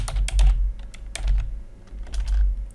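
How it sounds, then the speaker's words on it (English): Keys clatter on a computer keyboard in quick uneven bursts, close and clear, with short pauses between runs of typing. "and then you can just start typing."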